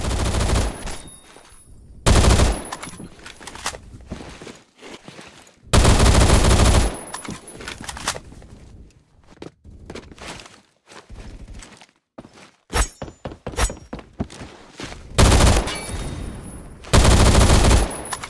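Gunfire in the video game Phantom Forces, loud sustained automatic bursts broken by quieter stretches with footsteps and clatter, shots coming in repeated heavy volleys.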